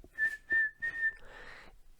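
Whistle tones are played for an auditory processing listening test: three clear, steady pitched whistle notes at one pitch, then a fainter longer tone, quiet and with no speech.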